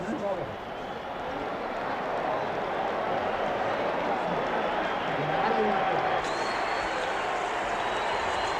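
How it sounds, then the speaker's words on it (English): A large boxing arena crowd before an Ali versus Frazier fight, a dense, steady roar of many voices filling the hall at moderate loudness, with a commentator talking over it. "Just listen to the noise of this crowd."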